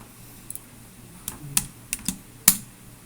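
A few sharp keystrokes tapped on a computer keyboard, sparse and close, in an otherwise quiet room.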